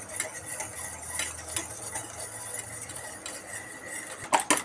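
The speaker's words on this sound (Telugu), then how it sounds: "మంచిగా ఇట్లా బురుగు వచ్చేంతసేపు మంచిగా మిక్స్ చేసుకోవాలి" Egg whites being whisked for a fluffy omelette, a steady stirring and scraping of a utensil against a bowl running continuously close by, with a few sharper clinks near the end and no voices.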